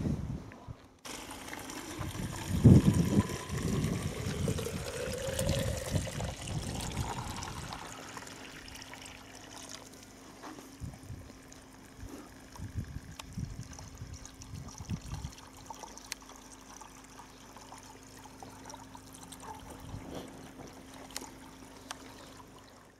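Water is poured into PVC-pipe drip irrigation in a greenhouse, with a louder splashing pour in the first seconds that settles into a faint, steady trickle running through the pipes, close by and without voices.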